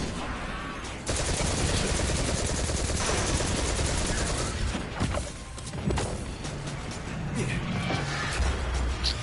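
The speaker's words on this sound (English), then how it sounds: "Who the fuck is shooting at me?" Video game gunfire, dense rapid automatic bursts and heavy shots layered over a loud continuous game soundscape, sustained for most of the stretch with brief dips between volleys.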